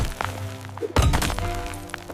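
A firewood log is split outdoors in a frozen, snowy wilderness, giving one heavy, sharp thunk-and-crack near the middle, followed by fainter knocks and scattered clinks.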